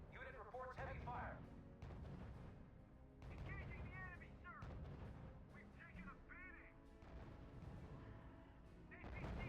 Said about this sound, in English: Unit opening fire on the enemy.